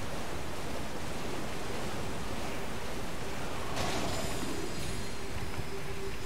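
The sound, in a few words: waterfall rushing in the video game Elden Ring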